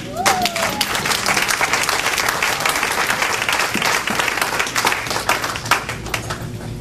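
Church congregation applauding through a sermon, a steady dense wash of clapping hands that holds loud and continuous throughout with some voices mixed in.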